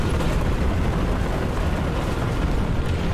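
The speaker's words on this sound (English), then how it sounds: "That's a big bomb." A large bomb explosion in a video game, a loud sustained roaring blast that fills the whole moment with rumbling noise and no pause.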